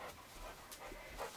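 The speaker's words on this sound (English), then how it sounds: "Sorry guys if you could hear that, that's my dog." A dog pants quietly nearby in a room during a crochet session, a short run of soft, breathy huffs at low level with no talking.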